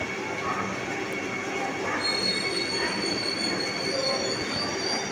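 Vande Bharat Express running from Secunderabad toward Tirupati, wheels squealing on the rails with a thin high whine rising midway and persisting over a low rolling rumble, heard from inside the train.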